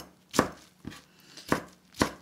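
A knife chops salted, softened radish finely on a board, four crisp separate strikes close by with short pauses between them, no voices.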